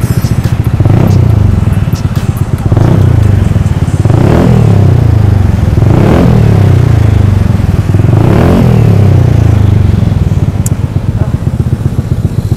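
A Vespa GTS 150 scooter with an Arrow exhaust, its dB killer removed, blips its throttle about five times in a steady rhythm, each loud close rev rising and falling back to a burbling idle.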